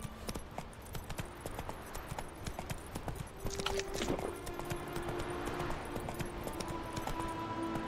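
Horse hooves clip-clop at a steady trot in the video game Witcher 3, a rhythmic series of quiet thuds that picks up slightly midway under faint background ambience.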